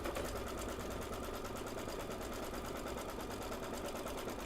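An embroidery machine stitches the tack-down of the background fabric, a fast, even, close-up whirring of needle strokes that stays steady and unbroken, with no talk over it.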